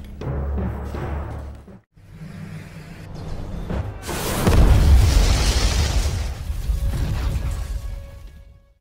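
A cabin blows up in an action movie scene: after a low rumbling lead-in and a brief drop, a loud booming blast erupts and rolls on, then slowly dies away with scattered debris noise.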